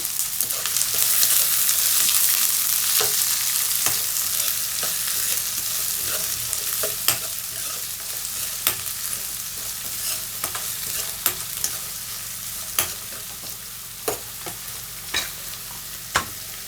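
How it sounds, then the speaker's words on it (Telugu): Chopped onions fry in a pan after cumin seeds, a steady close sizzle that is loudest early and eases off, broken by repeated sharp scrapes and taps of a spoon stirring, with no talking. "ఇప్పుడు ఇందులోకి మనం తరిగి పెట్టుకున్న ఆనియన్స్ వేసుకుందాము."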